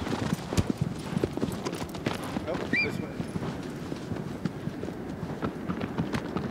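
Hooves of a horse galloping in Shadow of the Colossus, rapid clip-clop beats over uneven ground, moderately loud, with a horse whinny and a player's voice speaking briefly over it.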